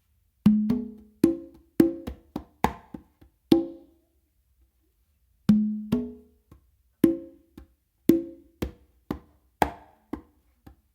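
Hand-played conga funk melody tumbao, a repeating pattern of open tones, slaps and muted strokes in a steady groove, close and dry, with a short pause midway before the pattern resumes.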